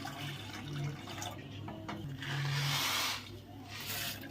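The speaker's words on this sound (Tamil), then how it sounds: "தண்ணி ஊற்றி வச்சுக்கோ." Water is poured into a pot on a home kitchen stove while making payasam, a rushing splash that swells midway, mixed with light clinks and rubbing of the vessel.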